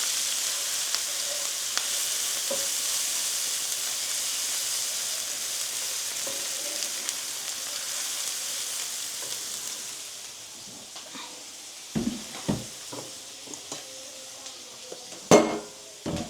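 Ginger and green chillies fry slowly in oil for a samosa filling, a soft continuous sizzle for about ten seconds, then quieter frying broken by sharp clinks of a utensil against the pan.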